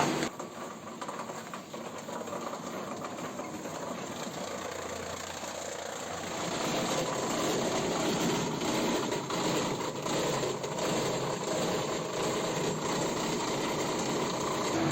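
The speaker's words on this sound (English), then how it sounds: "What we do is we put it in the machine, a machine with a lot of blades." An industrial shredder with many blades grinds aluminum, plastic and paper in a plastics recycling factory, a loud continuous churning roar that swells and grows harsher about halfway through, with no voices.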